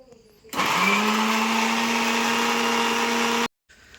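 A mixer grinder blends a spice masala into paste for a winter batch of ubadiyu, a loud steady whirring motor that starts abruptly, runs at a constant pitch for about three seconds, then cuts off.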